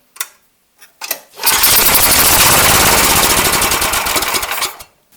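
A snow blower engine with a freshly cleaned carburetor sputters in a couple of short bursts, then catches and runs loud and steady, close by, before cutting off abruptly.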